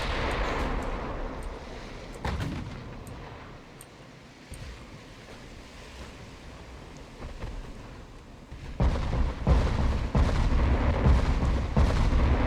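Naval gunfire from 18-inch guns in the Ultimate Admirals Dreadnoughts game, heavy booming blasts and rumbling detonations with a loud sustained roar building near the end, dense and close.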